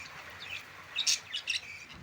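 Several birds chirp in short bright bursts during rain, a few sharper calls standing out over a steady soft background hiss.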